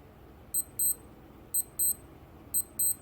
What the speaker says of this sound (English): if I press and hold it, you get to hear what the tone sounds like